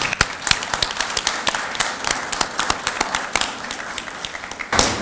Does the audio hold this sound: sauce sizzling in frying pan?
no